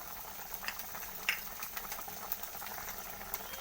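A pot of bottle gourd and chicken curry simmers quietly, soft bubbling with scattered small pops and clicks, faint and close, with no voices.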